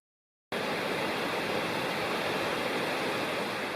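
Kirkland Creek, a mountain stream in a wilderness valley, rushes in a steady, dense wash of flowing water that starts abruptly and continues unbroken, close and alone.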